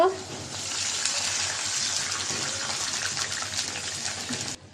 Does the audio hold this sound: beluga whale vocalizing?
no